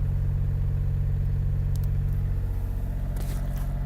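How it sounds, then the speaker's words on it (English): A Monaco motorhome's generator engine runs steadily nearby with a low, even, pulsing rumble, constant throughout and no voices. "This one here starts the generator."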